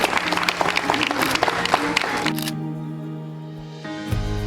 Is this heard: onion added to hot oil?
no